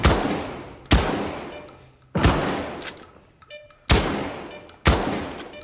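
Shotgun blasts fired in S.T.A.L.K.E.R. 2, five loud, booming shots spaced roughly a second apart, each with a sharp crack and a long decaying tail.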